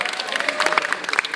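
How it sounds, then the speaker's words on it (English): Brief burst of audience applause at the MCM Scotland 2014 comic convention, dense crackling clapping with some crowd noise, loud and close for over a second. "Give a big round of applause for Mark"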